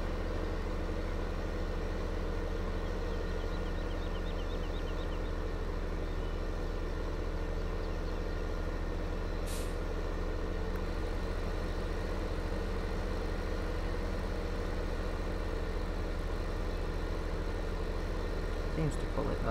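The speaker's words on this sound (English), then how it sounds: "this is a heavy trailer and this is a big tractor with a big weight on" A big tractor hauling a heavy weighted trailer in Farming Simulator 2015 drones with a steady, low engine rumble that holds unbroken throughout, with a brief hiss partway through.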